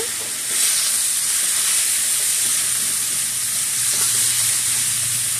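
Radish and shrimp fry in oil in a pan, a steady bright sizzle that holds for the whole stretch, with a low hum coming in partway through and no voices.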